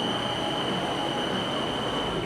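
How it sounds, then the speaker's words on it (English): Riding aboard a train heading back to accommodation, a steady loud rumble of rail travel with a thin high squeal running throughout, no voices. "now we're on the train and we're heading back to our accommodation"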